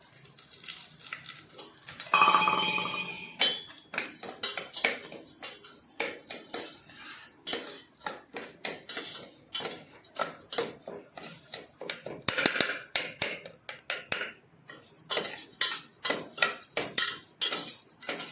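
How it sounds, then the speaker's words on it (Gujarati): Broken wheat (fada) roasting in hot ghee while a metal spoon stirs and scrapes against the pan, giving a steady run of clinks and scrapes at close range. "આપણે ફાડા છે ને ધીમે ધીમે ધીમે ધીમે શેકી એકદમ મરૂન કલર ના થાય ને ત્યાં સુધી આપણે શેકવાના છે"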